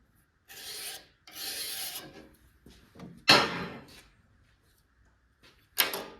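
Hand file rasping across a wooden piece in a workshop, several separate bursts of strokes, fairly close and clear, with short quiet gaps between them and no talk.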